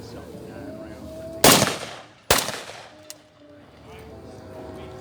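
Two sharp, loud rifle shots from a semi-automatic .30-06 being test fired at a World War II reenactment demonstration, about a second apart and fairly close, with faint background talk and outdoor ambience between them.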